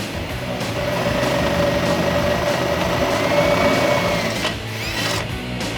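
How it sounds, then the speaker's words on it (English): A power drill with a 25/64 inch bit bores through a Jeep Wrangler JK fender flare mounting hole, whining steadily and loud for about four seconds before a brief dip and a second short burst, with no talking. "we're going to use a 25/64 inch drill bit to drill these 6 holes out"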